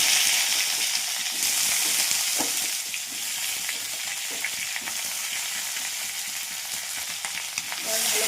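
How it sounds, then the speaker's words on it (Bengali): Radish and tomato fry in hot oil with a loud, continuous broadband sizzle and a few soft stirring clicks, with no voices. "এবার তেলের মধ্যে মূলো আর টমেটো দিয়ে দিলাম।"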